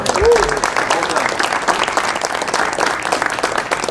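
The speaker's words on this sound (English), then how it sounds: "Let's give him another round of applause." Audience applause for Coach Jerheme Urban at a Food for Thought talk, a steady wash of many hands clapping that runs the full length, with a voice heard briefly at the start.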